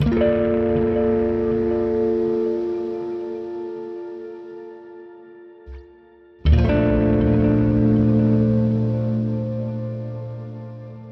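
Sustained distorted guitar chords through the Neural DSP Archetype Rabea plugin, thick with chorus, echo and reverb, ringing out, cutting briefly to a near-silent gap, then crashing back in loud and noisy.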